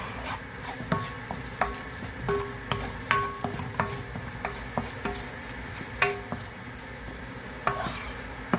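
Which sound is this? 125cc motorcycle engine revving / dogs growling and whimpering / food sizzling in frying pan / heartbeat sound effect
food sizzling in frying pan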